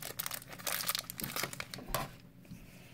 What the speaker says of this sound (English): Can you cut it all the way across?